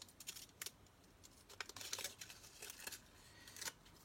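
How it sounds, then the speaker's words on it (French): Pinking shears cut through paper printed on a thermal printer for a handmade mini album: a quiet run of crisp, close snips with short pauses between them and no talking. "je fais avec les ciseaux cranteurs de mon petit-fils"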